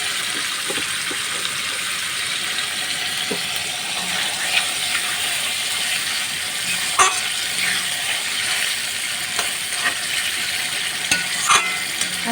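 Letia fish curry with green chili, cooked without onion or garlic, sizzles and bubbles gently in a pan, a soft steady fizz with occasional small pops and faint clinks.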